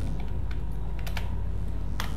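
Keys clack on a computer keyboard as a name is typed, a run of quick irregular taps with a few sharper strikes, close and clear with no speech.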